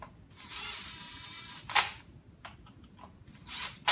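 A ratchet wrench snugs down bolts while a 409 Cleveland engine is being reassembled, giving a sustained close clicking run followed by a few short sharp bursts and scattered knocks.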